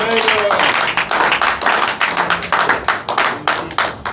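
A church congregation claps in quick rhythmic unison, close and loud, each handclap sharp and evenly spaced, with a voice briefly heard at the start.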